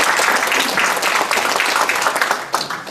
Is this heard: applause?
yes